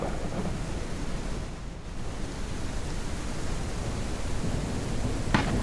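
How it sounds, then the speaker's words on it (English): A video game thunderstorm: steady loud rain and wind noise with a low rumbling roll of thunder, a brief lull, then a sharper crack near the end, with no voices. "I wanted to show you guys the thunderstorm."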